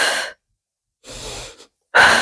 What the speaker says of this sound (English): You inhale through your nose for 5 pumps. Exhale through your mouth.